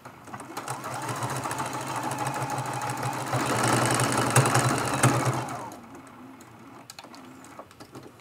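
A domestic sewing machine runs steadily, stitching straight along the edge of a small scrappy crazy-quilt pin cushion, louder in the middle and easing off toward the end, with no voices.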